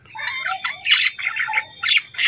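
Several pet birds chirp and squawk in quick, overlapping bursts close by, bright and fairly loud, with no talking.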